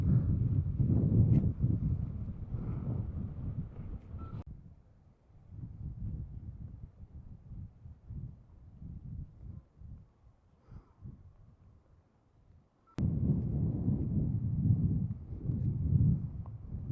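Gusty wind buffets an outdoor microphone on a seaside walk, a loud low rumble that swells and drops, fading to near quiet in the middle before returning strongly.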